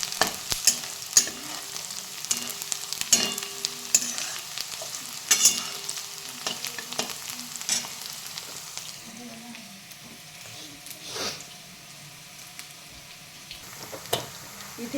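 Onion and green chillies frying in a pan for kanda poha, a steady close sizzle with occasional scraping stirs of a spoon, fading slightly toward the end.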